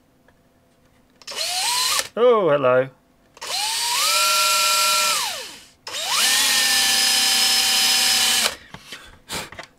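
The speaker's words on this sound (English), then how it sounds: "So I'm just going to drill that hole." A power drill boring a hole in the case of a bench power supply, whining up in two long sustained bursts near the mic after a short squeaky start; someone speaks briefly.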